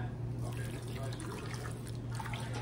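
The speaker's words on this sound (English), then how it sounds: "And then we're just gonna pour it all over our chicken." Root beer is poured over chicken in a slow cooker, making a close, steady trickle and splash of liquid with faint drips, under a low hum, and it continues throughout.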